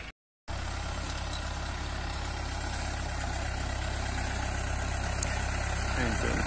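A farm tractor engine idles steadily outdoors during herbicide spraying, a constant close low rumble after a brief silent gap at the start, with someone talking over it.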